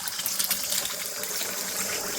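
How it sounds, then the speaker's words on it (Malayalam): Four beaten eggs being poured into hot oil for a Kerala egg and tapioca dish, giving a steady loud hiss and sizzle with a watery, gushing texture that lasts throughout, with no talking. "4 മുട്ട എണ്ണയിലോട്ട് ഒഴിച്ച്."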